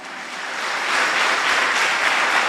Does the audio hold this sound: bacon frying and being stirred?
no